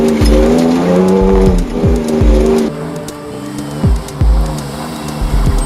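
A Toyota FJ Cruiser with the 1GR V6 engine drives loudly and close, its revs climbing and dropping in repeated surges with tire-squeal-like tones over the engine note.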